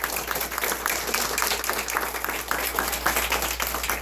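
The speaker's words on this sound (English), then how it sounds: "So give them a big round of applause" An audience applauding teachers: dense, continuous clapping from a crowd, steady and fairly loud throughout, with a low hum beneath it.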